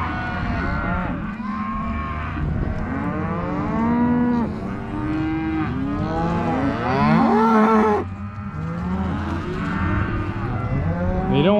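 Cattle moo loudly and repeatedly, near and overlapping, as cows and calves are sorted into separate pens during a Montana ranch roundup for shipping.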